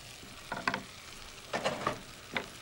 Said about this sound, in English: And just stir the onion round